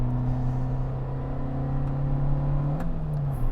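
A 2019 Suzuki Jimny accelerating hard from a standstill, its engine droning steadily from inside the cabin and rising gradually in pitch, with a brief gear change near the end.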